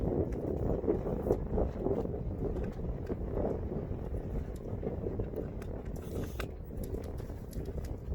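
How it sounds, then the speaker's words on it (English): Blustery wind in the Utah desert buffets the microphone in a constant low rumble, with gusts swelling and easing throughout; no clear voices stand out. "Sorry about the wind."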